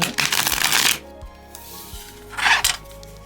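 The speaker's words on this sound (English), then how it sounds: "They shuffle pretty well." A vintage Epinal card deck with cards curved in one direction being riffle-shuffled by hand: a long, close crackling burst, a pause with a few soft taps, then a second shorter shuffle.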